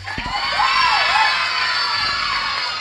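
A crowd cheers and shouts loudly with shrill whistles cutting through, a sustained roar of excited voices.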